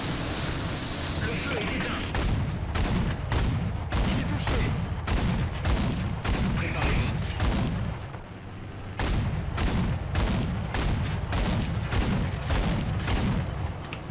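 Rapid bursts of cannon and gunfire from a tank in War Thunder ground battles, with French vehicles, loud booming shots repeating in quick rhythm, pausing briefly midway, under a player's occasional talk.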